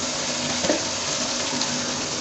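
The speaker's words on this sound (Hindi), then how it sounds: "अब हम इसमें पानी ऐड करेंगे।" Water poured into a pot of roasted chickpeas for chana pulao, a steady broadband splashing rush with sizzling undertones, continuous and close for the whole stretch.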